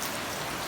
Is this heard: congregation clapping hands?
no